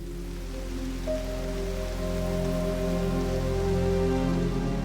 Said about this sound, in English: Rain now washes away the bare soil.